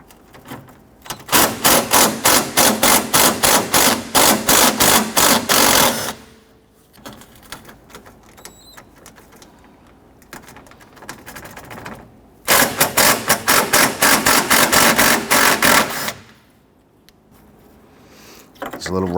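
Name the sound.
loosening and removing 10mm bracket bolts on a Honda Ridgeline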